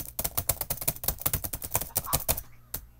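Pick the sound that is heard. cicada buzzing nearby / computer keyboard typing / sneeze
computer keyboard typing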